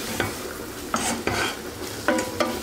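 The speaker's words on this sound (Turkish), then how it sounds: "Bulguru da biraz kavuracağım." Fine bulgur is stirred and roasted in a pot for soup, with a continuous dry sizzle under repeated scraping strokes of a utensil against the pot, close and fairly loud, no talking.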